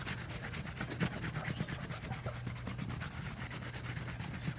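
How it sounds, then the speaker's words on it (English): Sandpaper rubbed over a faux pumpkin to strip peeling paint gives quiet, rapid rasping strokes in a steady back-and-forth rhythm, close up and without speech. "Now I'm going to sand them a little bit, especially this one."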